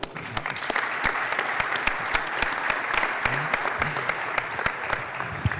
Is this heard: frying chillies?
no